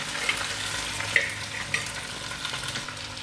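Chicken pieces frying in a clay pot, a steady close sizzle with a few sharp stirring scrapes and clinks over the hiss, and no one speaking.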